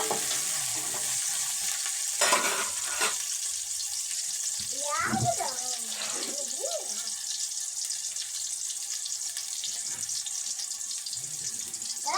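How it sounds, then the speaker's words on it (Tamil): Onions sauté in a pan for chicken curry with a continuous hissing sizzle, close and steady, broken by a few clanks and scrapes of stirring and a brief watery splash partway through. "நல்லா வதக்கிடுவோம் ஃப்ரெண்ட்ஸ்"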